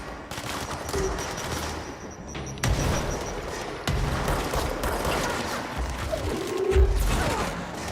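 In the video game Control, a chaotic firefight: bursts of rapid gunfire, sharp bangs and heavy explosive booms from grenades crash in irregularly over a humming backdrop.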